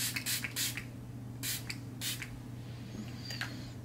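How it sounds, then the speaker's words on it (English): Several short hissing bursts from a makeup setting spray bottle, close by, in quick pairs with pauses between, over a low steady hum. "I'm just curious to see kind of how good the spray is"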